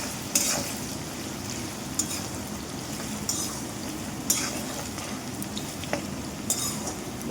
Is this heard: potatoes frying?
yes